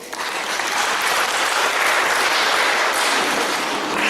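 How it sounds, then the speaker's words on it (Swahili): A church congregation breaks into a dense, sustained round of clapping that holds loud and even from start to finish, with no voices over it. "Simpigie Yesu makofi."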